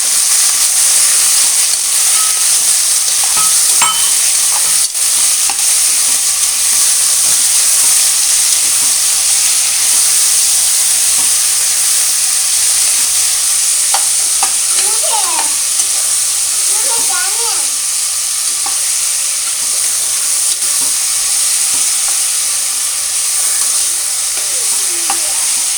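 Chopped vegetables frying in oil for veg pulao, a loud steady sizzle and hiss running throughout with occasional scraping stirs, close up, with faint talk in places.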